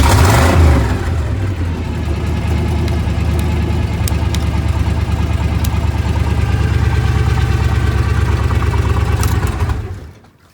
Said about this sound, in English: Truck starts up.